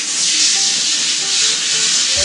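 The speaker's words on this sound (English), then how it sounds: "start rinsing down the coat" Running water rinses down a dog's coat during a bath, a steady loud hiss of spray and splashing that continues without a break.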